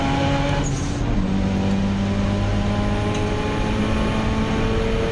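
Steady roar of racing car engines, including a Mazda RX8, Honda Civic Type R and Toyota MR2, several tones layered and sustained, loud and continuous as a 39-car field sweeps past on the opening lap at Donington Park Circuit.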